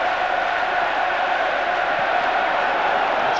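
A crowd of 30,000 at a France vs Brazil football match fills the stadium with a steady, broad roar of murmuring and cheering, dense and distant, with no single voice standing out.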